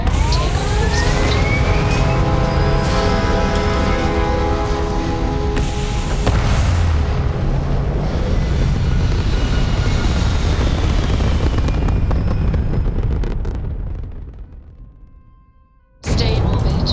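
Spaceship takeoff in the video game Starfield, a loud sustained engine roar with rising whine and rumbling thrust that fades out near the end before a sudden return of sound, with brief voices over it.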